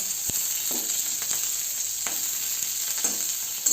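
Steady hiss of chillies frying in hot oil, with a few soft clicks and stirs breaking through the sizzle.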